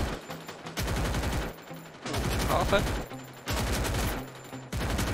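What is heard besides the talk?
gunfire in a shooting video game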